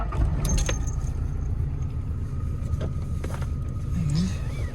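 A 1995 Toyota Hilux Surf engine is cold-started and then settles into a steady idle, a constant low rumble that runs the whole way with a few faint clicks and jingles on top.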